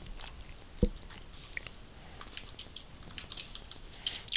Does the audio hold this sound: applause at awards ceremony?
no